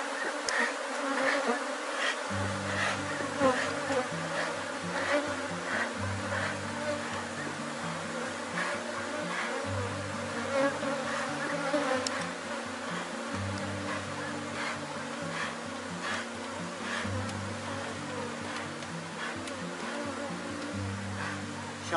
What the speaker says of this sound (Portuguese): quando você abre ele, ó, voa a abelha para todo lado